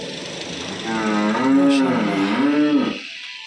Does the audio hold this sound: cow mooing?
yes